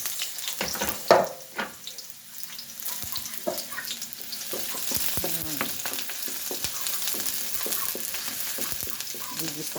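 Garlic and onion sauté in a hot pan for a noodle dish, a steady close sizzle with occasional stirring scrapes and clatter, and a brief burst of running tap water near the start.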